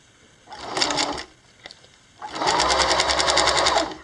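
A sewing machine stitches a zipper onto fabric in two bursts, a short run followed by a longer steady whirring run, close and loud.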